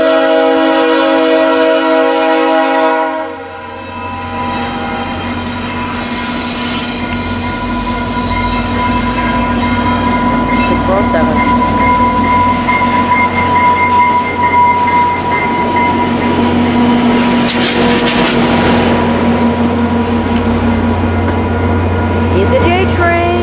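A VIA Rail passenger train passes close by, with a loud low rumble of cars and wheels, sustained screeching wheel squeal, and a sharp metallic burst in the middle. A voice speaks over it now and then.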